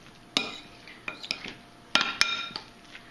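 Tuna burger mix with green onions and mustard being stirred in a bowl, a few sharp clinks of a utensil against the dish spaced irregularly among quieter scraping, with no talking.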